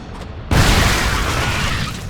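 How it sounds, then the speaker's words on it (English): Shredder grenades going off in the strategy game StarCraft 2: a sudden heavy boom after half a second of near quiet, then a loud, sustained crackling roar that lingers without fading much. "Let me try out these shredder grenades."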